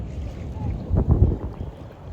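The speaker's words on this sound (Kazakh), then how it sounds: "Осылай шайқап кетеді ана үлкен қайықтар өткен кезде" Wake from big boats passing a kayak on Mission Bay sloshes and rocks the boat, heard as a faint, low watery rumble swelling briefly amid wind noise.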